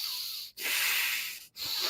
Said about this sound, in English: I'm just going to sniff through my nose.